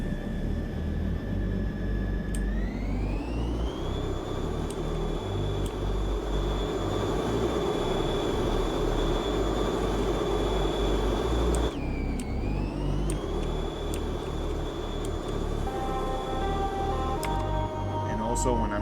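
Steady mechanical drone of a helicopter engine in a procedural city-building game, a continuous whine with layered tones that shift pitch as the engine revs, loud and unbroken throughout.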